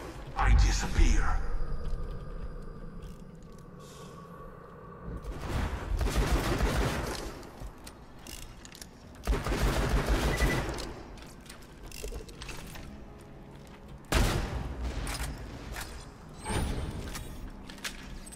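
Gunfire bursts during a Borderlands 2 boss fight with Thermitage in Sir Hammerlock's Big Game Hunt, loud clusters of shots separated by quieter stretches with mechanical clanks and a voice speaking.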